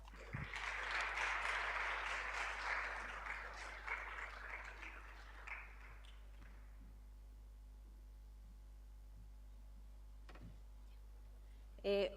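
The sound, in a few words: audience applause for the speaker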